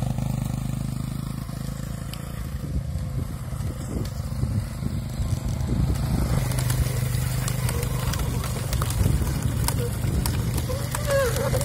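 A motorcycle engine drives a sugar cane mill at a rural rapadura works, running with a continuous low rumble and crackling texture that grows louder partway through, with people talking over it.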